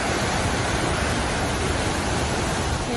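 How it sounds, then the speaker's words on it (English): Waterfalls fed by snow melt beside a trail produce a loud, continuous broadband roar of rushing water, steady and close throughout with no voices. "lots of waterfalls"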